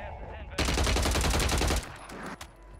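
Rapid automatic MP5 gunfire in the Warzone video game, a loud dense burst of about a second and a half that cuts off abruptly, followed by a fainter trailing shot or two.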